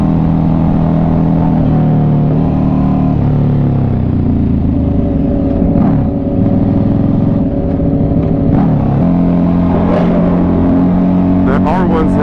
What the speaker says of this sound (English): That R1 sounds good.